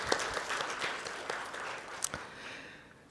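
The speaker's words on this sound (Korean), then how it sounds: "다시 한번 큰 박수 부탁드리겠습니다" Seminar audience applauding after a presentation at a corporate responsibility event, a broad wash of clapping that gradually fades over a few seconds.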